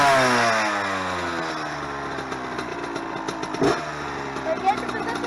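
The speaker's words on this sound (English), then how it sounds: "Today you're going to see me riding my dirt bike down my road. It's the Honda CR85R" Honda CR85R two-stroke dirt bike engine running and revving, rising and falling in pitch close by, with a brief thump midway and no one talking.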